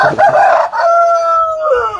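A single loud rooster crow, close by, drawn out over about two seconds.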